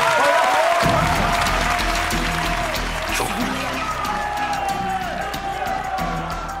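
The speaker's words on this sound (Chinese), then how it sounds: "我们以更热烈的掌声欢迎31号选手 Vivian 出场" Applause, cheering and whoops from a crowd at a supermodel contest welcome contestant number 31, Vivian, onstage, sustained and lively over music, with a voice speaking partway through.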